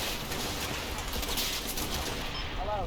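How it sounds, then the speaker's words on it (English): Dense, continuous gunfire and overlapping bursts from a heavy firefight between SS infantry and defenders around church grounds in the World War II strategy game Combat Mission, Operation Epsom, loud and unbroken throughout with no speech. "A heavy firefight breaks out."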